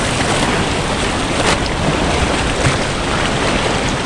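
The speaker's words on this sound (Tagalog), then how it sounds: "Nagpusog bigla sa alon." Ocean waves surge steadily into Magpupungko lagoon, a loud, continuous roar of churning surf and wind buffeting the microphone, with no talk.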